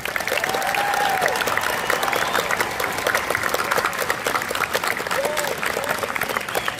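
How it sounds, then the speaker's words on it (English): An audience at a middle school moving-on ceremony applauds the graduating class, with steady sustained clapping from a large crowd filling the room and a few faint voices and cheers mixed in. "We want you to sit down while everyone applauds you."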